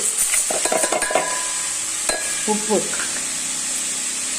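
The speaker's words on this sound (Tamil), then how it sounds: "இப்போ இந்த பீர்க்கங்காய் தோல் வதங்கிட்டு இருக்கட்டும்." Gentle sizzling from a pan as ridge gourd peel sautés, broken by a few scraping stirs and light clinks of a utensil close by.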